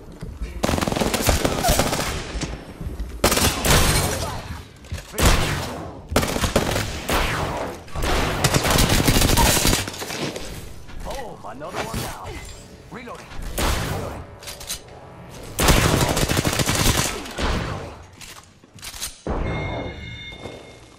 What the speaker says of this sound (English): Darn, shots fired.